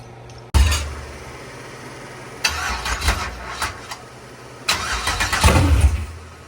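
A Pontiac 416 V8 in a Formula Trans Am cranks and catches with a loud burst, then settles into a rough idle before revving up twice in surging blips, close by with no talking.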